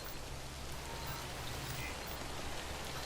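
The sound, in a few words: rain falling in a video game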